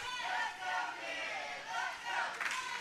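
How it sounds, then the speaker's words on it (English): A wrestling event crowd cheers and roars in surging waves, with rising shouts and some clapping that fill the arena throughout. "The crowd coming alive here for the kid here on Synergy"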